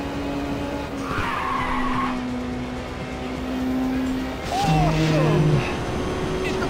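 A race car in the Ridge Racer PSP racing game roars along and skids, with long squealing tire slides over a steady engine drone; someone talks excitedly over it.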